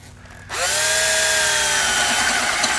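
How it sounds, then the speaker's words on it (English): A cordless power drill spins up and bores through metal on a 2004 Honda Element during a fog light install, a loud whining motor that starts abruptly and holds steady at close range, with no talking. "I'm going to drill through the metal."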